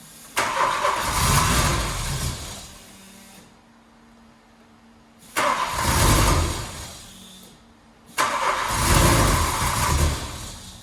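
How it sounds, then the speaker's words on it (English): A barn-find MK1 VW Golf GTI engine is revved in three loud surges, each a roaring burst of about two to three seconds that drops back to a quieter, rough running note between them. "Give it a little rev, let's hear it run."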